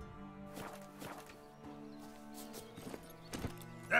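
Hooves of Roach, Geralt's horse in The Witcher 3, clip-clop at a steady walking pace over game music, with a brief whinny or snort near the end.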